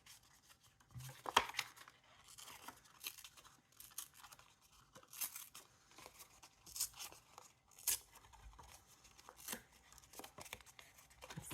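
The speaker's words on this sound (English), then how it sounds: "I think I'm going to tear it." Paper being torn by hand for a junk journal page, heard as several short, close ripping and crinkling bursts separated by quiet gaps.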